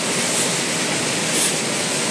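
Fast water roars continuously at a deep swimming spot, a steady loud hiss and rumble with no voices, staying even from start to finish.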